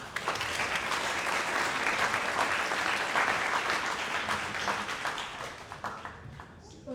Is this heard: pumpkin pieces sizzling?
no